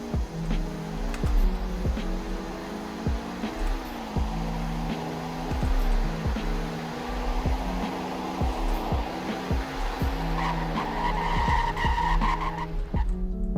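Car in the Roblox game Greenville driving a speed test, with a loud, continuous engine whine that repeatedly rises and drops through gear shifts, plus screeching tire squeal near the end; no talking.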